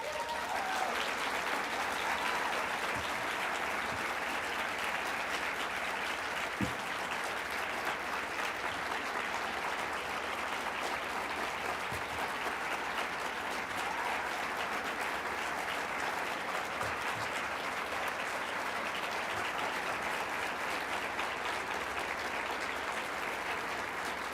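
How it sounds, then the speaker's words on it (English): An audience at a professional society meeting applauds at length after a speech, the clapping dense, even and sustained at a steady moderate level throughout. "maybe you should have saved that applause until after my year"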